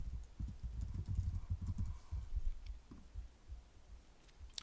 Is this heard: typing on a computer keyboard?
yes